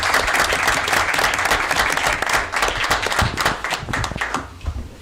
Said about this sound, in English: one more round of applause for all our recipients